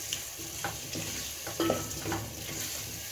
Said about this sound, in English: Then stir well for them to get the paste, for the potatoes to get the paste.